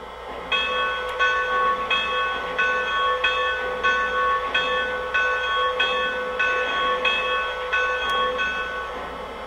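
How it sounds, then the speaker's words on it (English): Lionel Pennsylvania 2-10-4 Texas model train bell ringing in a steady, evenly spaced clang, repeating about once a second, moderately loud and alone with no talk. "Here's the bell."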